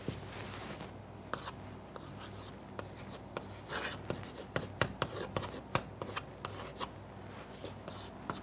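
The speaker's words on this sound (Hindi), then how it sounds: "वैसे यहां से मैं रब किए देता हूं" Soft, scratchy strokes of a board being rubbed clean during a physics lecture, faint, uneven swipes repeating for several seconds against a quiet room.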